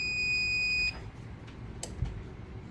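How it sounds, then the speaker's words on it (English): A heat press gives a single steady electronic beep for about a second, then cuts off, leaving quiet room noise and a faint click. "I'm going to go ahead and turn on the heat press. It's going to start beeping"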